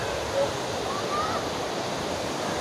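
Kuang Si waterfall near Luang Prabang gives a continuous broad rush of falling water, a steady even wash with a few faint tones on top.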